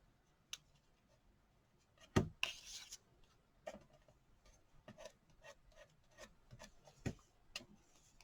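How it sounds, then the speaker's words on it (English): Glue rubbed by hand into a Christmas ornament from a craft kit, heard as soft, faint scratchy rasps and scattered light taps spread out over several seconds, with no talking. "just rub it in."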